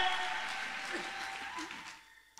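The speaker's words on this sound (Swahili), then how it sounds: "wanaoweza kumpigia Jehova na makofi ya shangwe na vigelegele" A church congregation claps in a dense, sustained burst of applause that fades toward the end, with cheering voices mixed into the noise.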